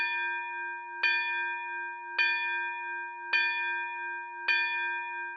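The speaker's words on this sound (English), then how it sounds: "the Griffin went inside and pulled the rope which rang the school bell." A school bell rung by pulling its rope gives a clear metallic tone that strikes about once a second, four times in a row, each stroke ringing on and fading under the next, with no voices.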